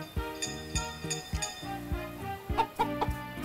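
Chickens in the farming game Story of Seasons: Pioneers of Olive Town cluck in short repeated bursts over a steady musical background, close and moderately loud, with no talking.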